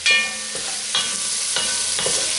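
Five cloves of garlic sizzle in a pot while a utensil stirs them, giving a continuous bright frying hiss with several soft scraping strokes at regular intervals, no talking.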